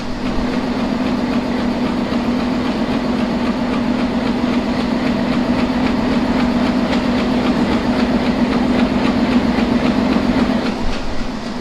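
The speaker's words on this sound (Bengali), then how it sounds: "আমাদের ট্রেন কিন্তু চলছে ঠিক এগারোটা তিরিশ মিনিটে নকশিকাতা কমিউটার খুলনা থেকে ঢাকার উদ্দেশ্যে যাত্রা শুরু করেছে" The Nakshikantha commuter train from Khulna to Dhaka rolls along with a steady, loud rumble and rhythmic clickety-clack of wheels on rails, heard from inside the carriage throughout without talk.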